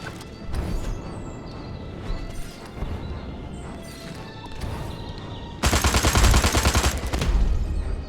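Continuous rapid gunfire in Destroy All Humans! starts with scattered shots and crashes, then becomes a loud, dense machine-gun burst that runs nonstop for the last few seconds.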